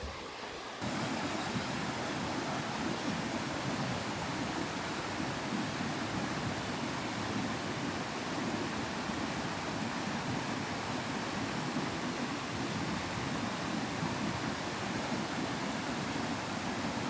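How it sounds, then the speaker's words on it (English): A waterfall along a road trip toward the Arctic, a constant broadband rush of falling water that starts abruptly after a moment and holds loud and unbroken, with no voices. "I'm gonna stop and check out a waterfall."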